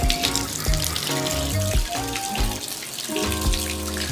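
Toy animals are washed in water, with steady splashing and running water close by, loud and continuous over a few seconds.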